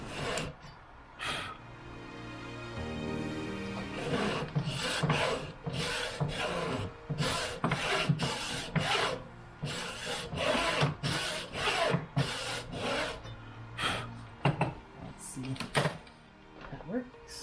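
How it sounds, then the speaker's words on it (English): A hacksaw cuts a piece of broken bandsaw blade in a rapid series of rasping strokes, close and fairly loud, uneven in rhythm with short pauses between bursts, alongside someone speaking. "Now I'm using a hacksaw on this"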